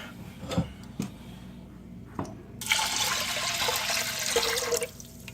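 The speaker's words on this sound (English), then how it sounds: "I am going to add the water for cooking." A few soft knocks, then a steady stream of water pours into a pot of lentils, filling it for a couple of seconds before trailing off.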